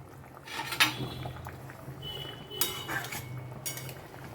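Fried fish goes into boiling gravy in a pan, heard as a few close clinks and scrapes of a utensil against the pan over a low bubbling background, with no talking.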